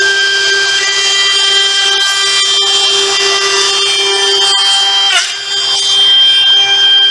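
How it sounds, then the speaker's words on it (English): A handheld woodworking router fitted with a large base screams at top RPM, a loud continuous high whine holding steady with a brief dip near the end before resuming. "I've got the router up to its top RPM."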